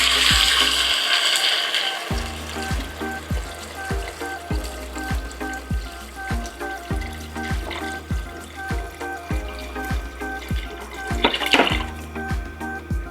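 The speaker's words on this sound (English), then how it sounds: "Now we're going to be adding our water." Water poured into a cooking pot of sautéed mung beans for Filipino ginisang munggo, a steady splashing trickle with a rhythmic series of bubbling, clinking pulses underneath, close and fairly loud throughout.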